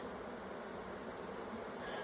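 Honey bees buzzing steadily at an open hive during an inspection: a dense, continuous drone of many wings at moderate, even loudness throughout, with no talking.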